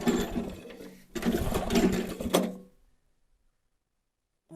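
A worn-out gas engine on a pull-behind brush mower sputters in two uneven bursts, running rough and close before cutting out and dying into near silence.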